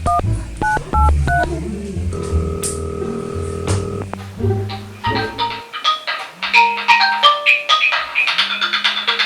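Telephone dialing tones in a Sundanese comedy sketch: a rapid series of bright keypad beeps, followed by longer steady tones and a ringing pattern, loud and close with no talk over them.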